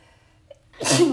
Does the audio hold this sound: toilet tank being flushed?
no